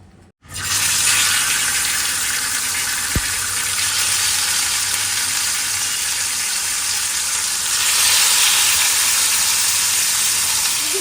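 Chicken pieces frying in olive oil, a loud, steady broadband sizzle that starts suddenly as the meat hits the hot pan and keeps going close up, swelling slightly near the end.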